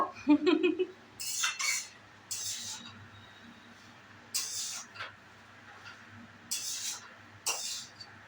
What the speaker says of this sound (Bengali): এবার সব মিশিয়ে নেবো, নিলেই কমপ্লিট হয়ে গেল।